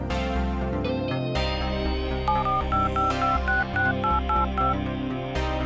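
Keypad tones beep in quick succession as a phone number is dialed on a cell phone in GTA 5, playing over a loud, steady music bed.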